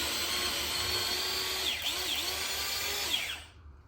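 A small mixer grinder jar with only about 250 capacity whirs steadily as it grinds, a continuous high-pitched motor whine with slight pitch dips, then cuts off near the end.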